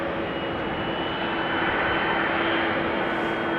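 A Ryanair jet moves on the ground at Amsterdam Schiphol Airport, its engines making a steady, moderately distant roar with a thin constant whine on top, unbroken and without talk.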